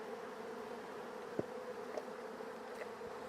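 Honey bees buzzing steadily around an open hive during a mite check, a dense continuous drone with a few brief nearby clicks and knocks.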